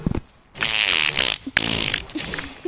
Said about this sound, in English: I'm just gonna fart right in my brother's face.